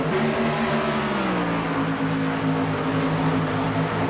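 Race cars roaring down the front stretch at Miami Speedway in a Nationwide and MX5 benefit race, a steady loud wall of engine drone with several overlapping engine tones, one pitch gliding as a car passes.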